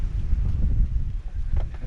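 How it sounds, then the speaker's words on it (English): Gusting wind buffets the microphone outdoors beside a camper van, a rough low rumble that swells and dips unevenly throughout, with no voices. "Pretty windy out there."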